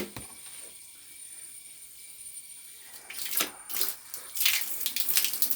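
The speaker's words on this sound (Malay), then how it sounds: "Airnya telah sampai ke bilik air. Tidak tersumbat lagi" Water gushing from a newly connected pipe into a bathroom at a house on the edge of an equatorial rainforest, starting faint and then splashing louder in irregular bursts near the end.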